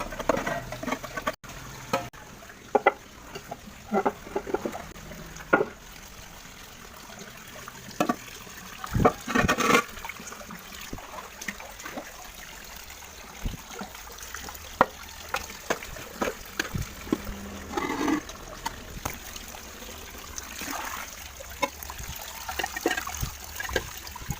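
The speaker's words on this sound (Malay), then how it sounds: "Lagipun air nak penuh di dalam kolam ni lambat lagi." Water runs into a tilapia fish pond, a steady splashing trickle with scattered drips and gurgles, close and continuous throughout with no talking.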